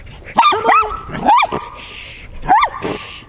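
A nearby dog barks sharply several times in short, high bursts, separated by brief pauses.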